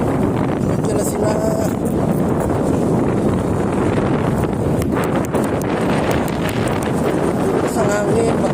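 Strong wind blows at sea while people fish from a boat, a constant loud roar buffeting the microphone throughout, with faint voices and small knocks mixed in.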